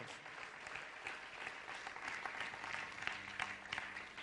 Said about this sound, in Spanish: Sí, aplauda al Señor en este día.